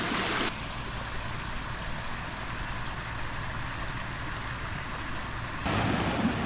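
A fishing-pond waterfall pours over new stone and boulders, its pump at about two-thirds power on a variable-speed drive, making a close, continuous rushing splash that holds even throughout the clip.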